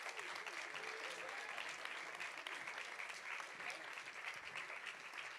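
An audience at a live youth vocal performance, 4 Voices 2025, claps steadily and densely throughout, a continuous wash of applause from a crowd filling the room.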